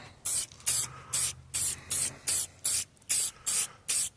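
Rhythmic bursts of a spray can laying light finish coats of paint on truck wheels for a 2002 GMC Sierra, about ten short, loud, close hisses in a steady pattern with brief pauses between.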